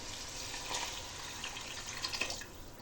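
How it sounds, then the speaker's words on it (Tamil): Water pours into rice in a cooking pot for vegetable meal maker biryani, a faint, brief liquid splash and trickle with a few light drips, heard alone and quietly. "3 கிளாஸ் தண்ணி ஊற்றுறேன்."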